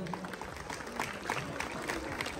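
Applause from an audience at a Marathi comedy stage show honouring a guest, a dense, even patter of clapping held at moderate loudness for a couple of seconds.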